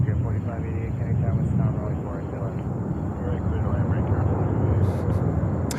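A Frontier Airbus A321neo airliner at JFK airport roars steadily as a continuous broadband engine rumble throughout, fairly loud and sustained, with someone talking over it.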